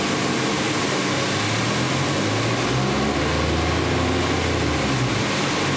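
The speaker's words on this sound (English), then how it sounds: "let's go and rev it, see if we can get our exhaust valve timing." A 2014 Nissan Altima engine with a P0014 exhaust valve timing fault and rough running is revved, its steady drone rising and holding through the middle before settling, heard up close with no talk.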